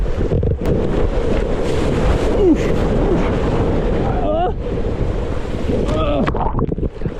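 Sea waves slapping and splashing against a moving boat off Australia, a steady wash of water and wind buffeting close to the microphone throughout, with voices talking over it at times.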